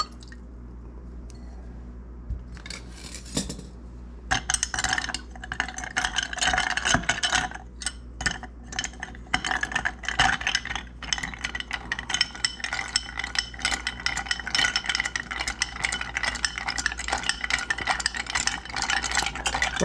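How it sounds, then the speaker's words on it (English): A spoon stirs a pot on the stove for an Old Fashioned, giving a steady run of wet squishing, scraping and clinking. It carries on close and fairly loud for most of the span after a quieter start. "I'm going to stir that up"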